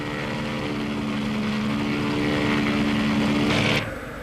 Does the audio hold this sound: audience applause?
no